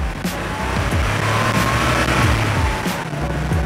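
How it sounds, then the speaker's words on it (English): A Porsche 911 Carrera engine runs with a low, throaty hum, its pitch shifting slightly as it revs and settles, heard up close over road noise. "You hear the motor behind you"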